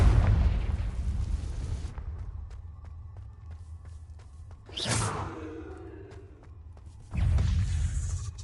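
Confringo spell cast in Hogwarts Legacy, a swishing whoosh followed by a fiery explosive burst, set between other heavy rumbling spell blasts at the start and end.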